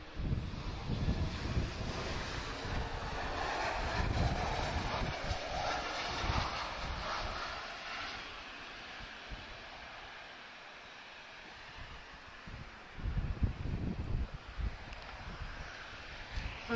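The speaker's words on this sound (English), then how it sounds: "Gets a bit windy in the evenings in Lisbon." Gusty evening wind buffets the microphone at Lisbon Airport, a steady broadband rush that swells and eases over the whole stretch with rumbling low gusts, loud and close, with no talk.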